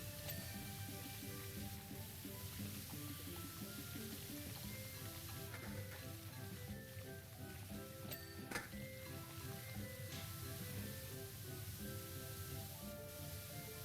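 Steady sizzling hiss of a pressure washer spraying in the PowerWash Simulator video game, constant and close, layered with background music and no voices.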